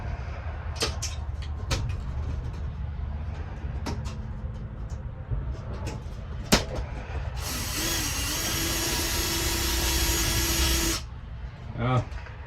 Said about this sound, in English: So I got it set in place, and I'm gonna screw that down.